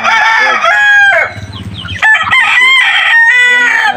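A young gamecock crows loudly and close up in a backyard, with two long, harsh crows broken by a short stretch of clucking and rustling.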